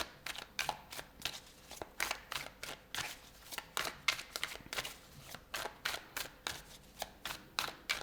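Tarot cards being shuffled by hand, a run of quick crisp riffling bursts in a steady irregular rhythm, close and clear with no talking over them.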